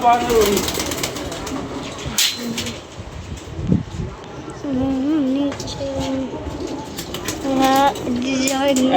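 Pigeons coo repeatedly in short warbling phrases, fairly close, under ongoing talk from people nearby.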